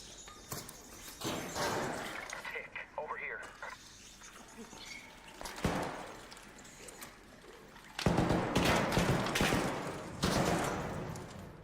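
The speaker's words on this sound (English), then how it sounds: "Guys are out here shooting them." Gunfire in the ARC Raiders video game, with bursts of rapid shots and louder volleys in the second half, mixed with game ambience and some voice.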